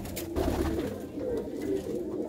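Pigeons in a pigeon loft coo steadily at close range, low throaty rolling calls overlapping one another with no talk.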